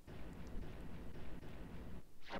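Artillery fire and explosions in the war strategy game War 2410, a continuous rumbling barrage of low booms with a few sharper cracks, fairly faint and heard without talk.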